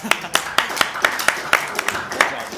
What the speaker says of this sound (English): Dax, round of applause